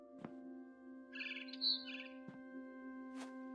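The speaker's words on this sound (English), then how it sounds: "Then I heard chirping outside my window. It was a barn swallow going back to her nest." A barn swallow chirps outside a window in a video game, short bright bursts of twittering over a steady low electronic hum, with a few soft thumps between calls.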